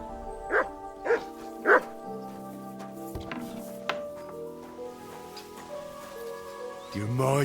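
Three loud dog barks ring out in the first two seconds of Kingdom Come: Deliverance 2, set against a steady musical drone with faint ticking, after which the dog falls quiet.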